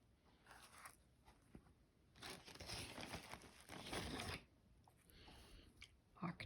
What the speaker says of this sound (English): Sorry for the crinkling there.